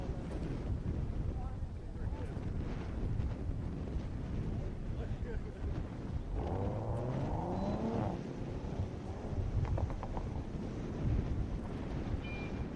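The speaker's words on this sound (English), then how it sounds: "Melissa Allen to the line in that beautiful Supra." A Toyota Supra accelerates on an autocross course at a fairgrounds, engine rising through revs at a distance amid wind noise, with a voice talking over it.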